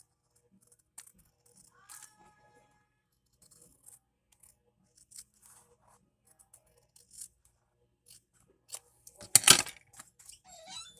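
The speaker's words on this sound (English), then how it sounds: "I'm going to cut the edge." Scissors cutting along the edge of a paper file folder journal page, sparse small snips and paper rustles through quiet stretches, ending in a louder burst of crinkling and cutting near the end.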